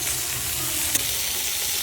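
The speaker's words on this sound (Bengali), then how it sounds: "আলু ভালো করে ভাজে নিচ্ছি আর তার মধ্যে আবার উস্তে দিয়ে দিচ্ছি।" Sliced bitter gourd and potatoes fry in a pan with a dense, steady, close sizzle and a single soft clink partway through, and nobody speaks.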